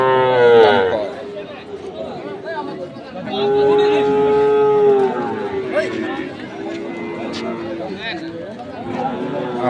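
Sahiwal bulls and calves moo loudly at a busy cattle market, with long drawn-out calls rising over steady crowd chatter and people talking nearby.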